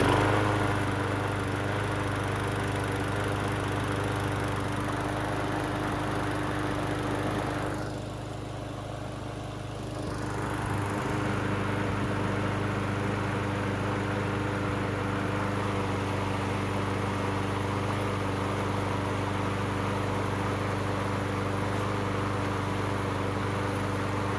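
A Craftsman self-propelled lawn mower engine runs steadily and loudly close by, dipping briefly partway through before resuming its even idle.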